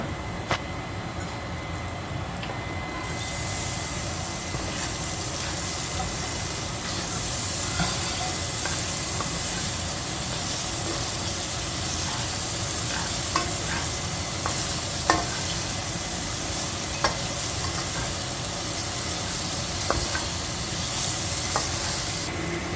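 Olives and broccoli sizzle with salt in a pan, a loud, even hiss of frying that carries on steadily, with occasional faint clicks and stirring taps and no voices.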